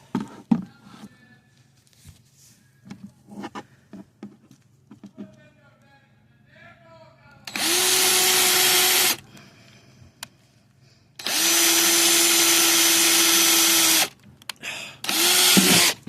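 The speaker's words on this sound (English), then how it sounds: "So I threw a 1/4-inch bit on the drill, and I am going to add a few drainage holes." A power drill fitted with a 1/4-inch bit bores drainage holes in three loud sustained bursts, separated by quieter handling clicks and rustling.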